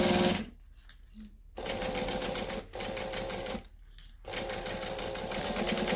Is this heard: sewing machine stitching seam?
yes